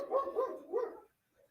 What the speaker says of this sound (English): And the dog is going nuts.